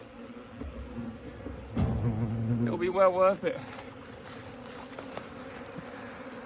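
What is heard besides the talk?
honey bees buzzing around hive colonies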